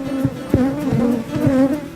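Honeybees buzz close by in a steady, droning hum that wavers in pitch as they move, with soft bumps and flutters scattered through the short stretch and no voices.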